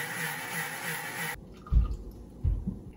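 Water pours briefly into a container of rice for steamed rice balls, a short splashing fill at the start followed by a couple of soft thuds and drips.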